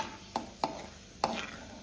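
Cashew nuts frying lightly in a pan for ash gourd halwa, with a few sharp spatula scrapes and taps against the pan over a faint, steady sizzle, heard close and without talk.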